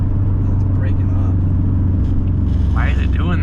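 A tuned Stage 3+ Subaru WRX engine sputtering and breaking up under acceleration, a heavy, uneven low rumble heard from inside the car, with a voice speaking briefly near the end.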